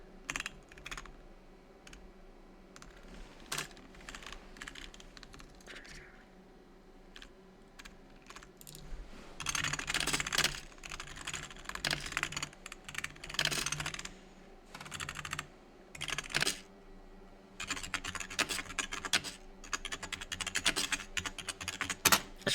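Computer keyboard typing during a sim racing practice session at Upper Peninsula Raceway: close, steady clicking keystrokes in irregular bursts over a low hum of engine noise, growing busier and louder in the second half.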